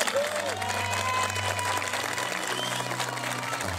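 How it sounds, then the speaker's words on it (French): Applause from a group thanking volunteers who helped rebuild a family's house, heard as moderate, steady clapping. A voice talks over the clapping at the start. "C'est moi qui vous applaudis déjà"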